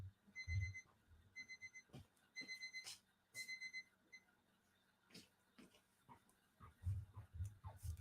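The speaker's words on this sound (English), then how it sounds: "hold on a second, I have an alarm going." An alarm going off indoors, sounding in short repeated bursts of high electronic beeps at a steady rhythm, fairly faint against low room noise, with no talk over it.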